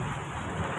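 Heavy rain pours outside a car, a dense and steady hiss of water on the glass and body heard from inside the cabin throughout.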